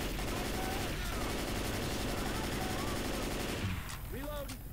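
Rapid automatic gunfire in Left 4 Dead 2's Dark Carnival campaign rattles almost without pause, loud and close, then drops away near the end while players talk over it.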